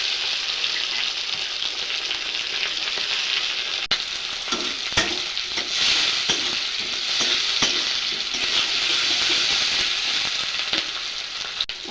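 Large-cut onions frying in a pan for chilli paneer make a loud, steady sizzle close by, punctuated by repeated scraping stirs of a spatula.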